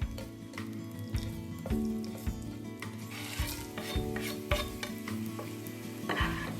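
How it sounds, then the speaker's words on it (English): Garlic slices and dried chilies frying in oil in a pan, a steady low sizzle with repeated scrapes and clinks of a utensil stirring against metal. "Now fry this mix until garlic starts to brown and you can clearly smell all the ingredients."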